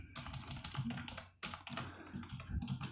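Fast typing on a computer keyboard while coding, close-up bursts of crisp key clicks with a brief pause before a final run of keystrokes.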